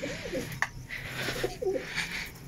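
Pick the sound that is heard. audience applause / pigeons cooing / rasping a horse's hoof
pigeons cooing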